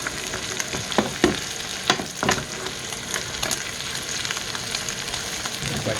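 Wagyu steak frying in butter with garlic and rosemary, a close, steady sizzle and spatter with several spoon or utensil clinks early on, no talk.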